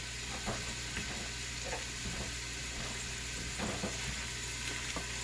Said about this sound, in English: my onions are starting to saute in the pan